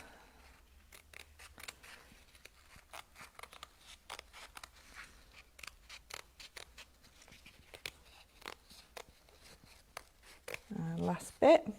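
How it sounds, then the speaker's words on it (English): Scissors snip steadily through fabric while cutting out a small, delicate craft piece, with sharp repeated clicks and crisp cuts close by, and a voice speaks briefly near the end. "I have now cut it all out"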